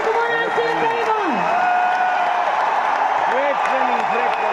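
An audience claps throughout as a steady wash of applause, while a person speaks loudly over it.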